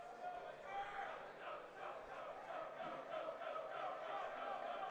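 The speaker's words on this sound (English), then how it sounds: "You can hear the crowd chanting" Crowd at a high school tournament baseball game, Elyria Catholic against Central Catholic, chanting in a steady rhythmic wash of voices that stays constant and moderately distant throughout.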